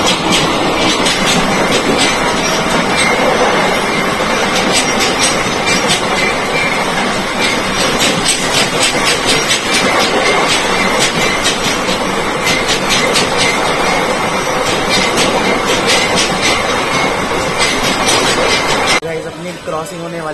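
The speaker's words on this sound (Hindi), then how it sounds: "क्रॉसिंग होने वाली है त्रिवेणी एक्सप्रेस ट्रेन के साथ में" A train runs on railway tracks between Bareilly and Tanakpur, its loud continuous rumble and rapid clickety-clack heard from on board, with high squealing and rattling throughout before a sudden drop near the end.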